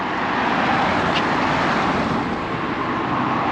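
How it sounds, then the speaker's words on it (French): Cars pass on a street in Eskisehir, Turkey, a loud, steady wash of traffic noise that stays close and constant throughout with no gaps. "Attends les voitures."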